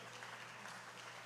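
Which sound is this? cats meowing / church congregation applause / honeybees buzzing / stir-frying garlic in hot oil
church congregation applause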